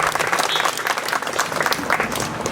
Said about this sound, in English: So can we give a round of applause to Gary Boyer and also the whole Rotary Club